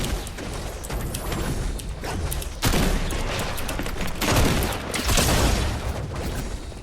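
Rapid, loud bursts of gunfire from a shooting video game, with repeated volleys and heavy booms packed close together, running continuously with no talk over them.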